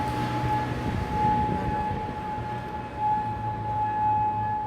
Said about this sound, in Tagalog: tugon ng ingay ng sirena